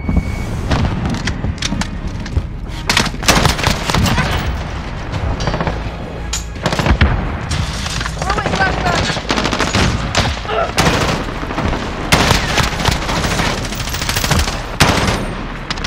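Dense, loud gunfire from Call of Duty Modern Warfare in a team deathmatch: near-continuous automatic bursts and booms over about sixteen seconds, with shouted voices mixed in.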